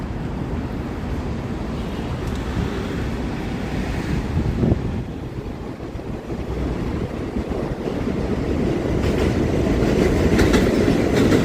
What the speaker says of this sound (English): That's the number 1 train on the left that you hear.